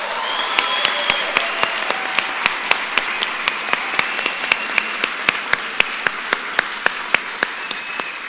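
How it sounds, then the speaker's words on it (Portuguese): A crowd at a political speech in Roraima applauds steadily, with a broad wash of clapping punctuated by loud, evenly spaced claps in a regular rhythm, a few voices calling faintly underneath. "Uma salva de palmas para aquele povo."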